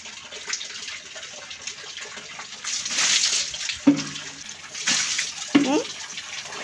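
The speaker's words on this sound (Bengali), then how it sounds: "মাথায় পানি দাও।" Water is poured over a child's head during a bath, with gushing splashes in several bursts amid running water and a voice speaking nearby.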